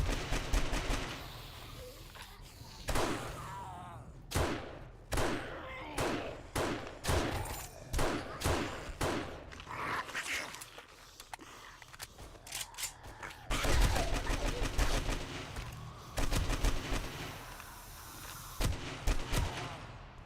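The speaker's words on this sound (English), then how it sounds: "This is the laser carbine. And I have shit aim with it" Laser carbine fire from 7 Days to Die Darkness Falls comes in rapid bursts of sharp zapping shots, some single and some clustered, separated by short pauses, with denser volleys near the end.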